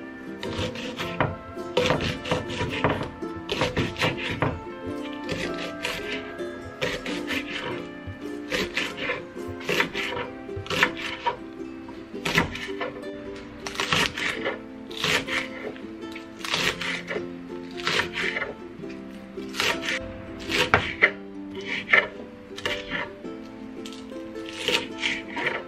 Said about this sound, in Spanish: Lo voy a hacer cortaditas muy muy finitas también